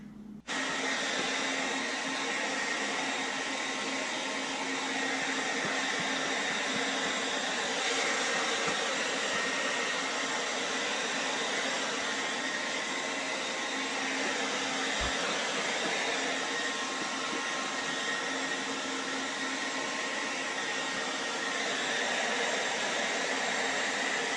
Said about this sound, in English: then I'm going to hit it with a hair dryer